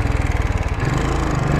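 Royal Enfield Continental GT cafe racer motorcycle engine on a test ride, a steady loud low-pitched chugging drone with a pulsing rhythm that smooths out partway through, with no talk.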